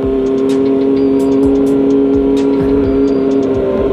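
A motorcycle with a Leovin aftermarket exhaust rides along at steady speed, its engine droning constantly and close, while passing traffic is heard around it.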